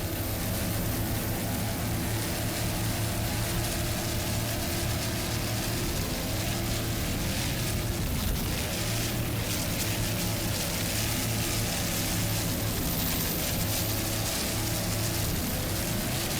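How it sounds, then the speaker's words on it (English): A 38-foot Scarab offshore racing powerboat with twin 700 horsepower racing engines roars at speed, a loud sustained engine drone mixed with wind and spray noise, steady throughout with no voices. "it's a 38-foot Scarab powered by twin 700 horsepower What's Up racing engines."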